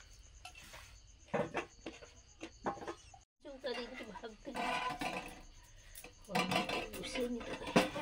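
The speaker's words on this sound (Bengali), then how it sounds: "সবজিগুলো আগে কেটে নিই।" Winter vegetables are chopped for khichuri and labra: irregular knife taps and clinks of utensils on a board, some louder bursts, with kitchen clatter and a little background noise throughout.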